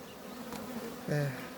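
Bees buzz close by, a soft droning hum with one louder bee passing near the microphone, no voices.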